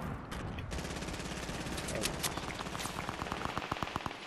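Rapid bursts of gunfire from a Fortnite getaway-mode match crackle throughout, near and loud, with sharp repeated shots thickening toward the end while players talk over them.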